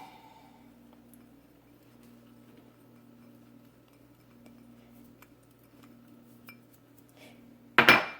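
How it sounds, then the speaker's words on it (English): Spice blend with turmeric and kosher salt being mixed in a bowl yields light clinks and taps of a utensil against the dish over a low steady hum, then ends in a louder clatter. "I'm going to mix all these ingredients."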